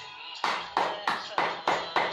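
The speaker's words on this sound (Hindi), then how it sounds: "ताली कम से कम रोज बजानी है और तेज से बजाना है" Six sharp hand claps at a steady beat during a yoga exercise session, loud and close, each one crisp and separate, with a brief murmur of voice before the first.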